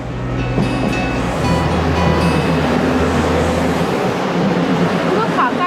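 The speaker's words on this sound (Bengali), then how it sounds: "যে ট্রেনটা দেখালাম যে ফাঁকা একদম যাচ্ছিল" An empty train runs past at a station in Taiwan, a steady loud rumble with low rolling tones and rail noise that fills the whole passage without pause.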